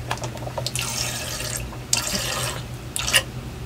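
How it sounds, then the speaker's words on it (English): Water runs and splashes steadily into the small tank of a personal tabletop USB air cooler, a close, continuous faucet-like stream with brief louder surges and no talking. "now you press it and the water goes in"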